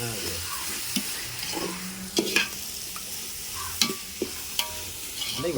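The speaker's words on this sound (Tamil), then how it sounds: "நல்லா கிண்டுங்க" Biryani ingredients frying in ghee or oil in a pot get stirred steadily, with a constant sizzle broken by several sharp scraping clinks of the spoon against the pot, and no talking.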